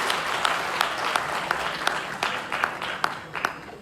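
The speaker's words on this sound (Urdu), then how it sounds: "میں چاہتا ہوں آپ لوگ ان کے لیے بھی تالیاں بجائیں" An audience at a human rights awards ceremony applauds in a hall, a steady patter of many hands with a few sharper nearby claps standing out, no talking over it.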